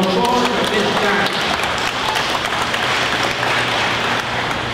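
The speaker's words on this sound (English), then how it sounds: "Please give him a round of applause at this time." Audience applause for a speaker introduced at a panel discussion on ecumenism, steady and fairly loud throughout, with a voice briefly audible at the start.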